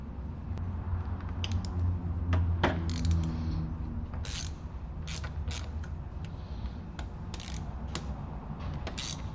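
Metal T20 Torx bolts being worked out of a car starter solenoid, giving repeated creaking, ratcheting clicks of a hand tool close by, steady through the whole stretch with no talk.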